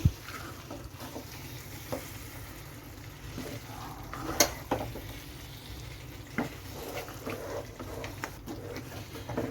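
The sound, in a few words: stirring camel roast curry after adding coriander leaves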